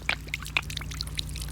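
Water runs out of an opened desert irrigation line as a faint pouring trickle, with soft splashes and small drips over a steady low hum.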